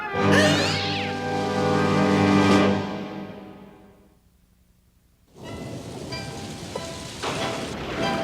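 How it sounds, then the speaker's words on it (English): A cartoon cat lets out a long, loud, wavering meow that fades after a couple of seconds. A short quiet gap follows, then a steady rain-like hiss with scattered thumps. "It's just the cat!"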